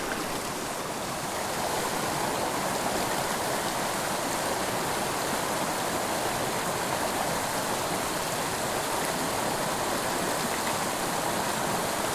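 A trout creek flows steadily, a constant broadband rush of water close by, unbroken and loud throughout with no talk.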